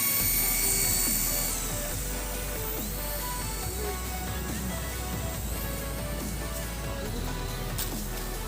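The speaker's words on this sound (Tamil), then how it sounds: "இப்போ நம்ம ஹெலிகாப்டர் பார்த்திங்கன்னா 3 to 4 minutes வந்து நல்லா பறக்கும்." A small toy RC helicopter whirs in flight with a high, buzzing rotor and motor whine that shifts in pitch, loud and close and continuing steadily without speech.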